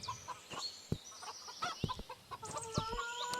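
Chickens cluck and squawk softly close by, with scattered short calls and light scratching sounds in a quiet setting.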